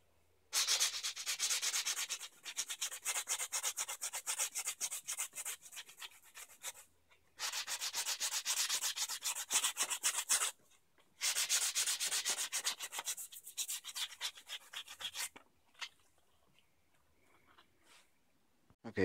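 Rough-grit sandpaper scrubs steadily across an EVA foam katana-style sword in fast back-and-forth strokes, close and fairly loud, in three long bursts separated by brief pauses before trailing into quieter scattered scraping.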